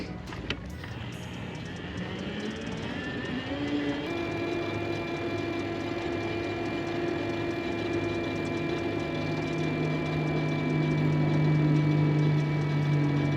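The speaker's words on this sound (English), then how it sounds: "I'll hit the throttle for the rest of the time." A Himiway A7 Pro eBike motor runs on throttle alone, a steady electric whine that climbs in pitch over the first few seconds as the bike speeds up, then holds an even drone over road noise.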